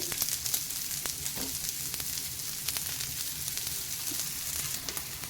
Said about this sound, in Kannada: ನೋಡಿ ಇಲ್ಲಿ ಈ ಥರ ಫ್ರೈ ಆಗ್ತಾಯಿದೆ